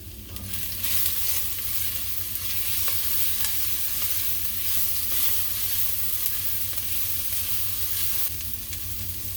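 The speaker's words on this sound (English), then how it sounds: "give that a stir and cook that for about another minute" Ground beef seasoned with oregano sizzles steadily in a pan while a spoon stirs it, a continuous close frying hiss with scraping strokes throughout and no talking.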